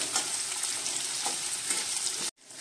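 Chopped onion frying in oil, a dense continuous sizzle heard up close and alone, with a brief cut to near silence at the end.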